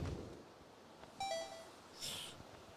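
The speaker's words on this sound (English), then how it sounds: "What are the little wind chimes I hear?" Soft chiming tones from the video game Wind Waker HD: a quiet ringing cluster of bell-like notes, then a brighter shimmering chime, both brief and faint against a near-silent background.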